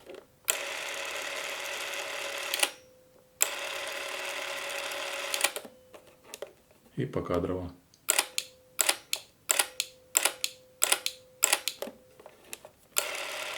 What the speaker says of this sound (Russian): Работает камера не громко. Не громко. То есть тихая камера, хорошая.